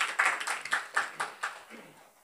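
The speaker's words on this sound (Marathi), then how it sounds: "यांच्यासाठी जोरदार टाळ्या द्या एकदा" Audience at a Marathi poetry gathering breaks into applause, a short burst of clapping with distinct rhythmic peaks that fades out toward the end.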